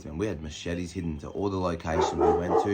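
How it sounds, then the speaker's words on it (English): A dog barks and yips a few times close by, partly under someone talking steadily over it. "Sorry, that's my dog."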